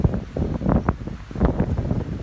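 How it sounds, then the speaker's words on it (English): Gusty wind buffets the microphone, producing a rumbling low roar that rises and falls throughout. "A little sound in the background you're probably hearing. It's a bit of a windy day today."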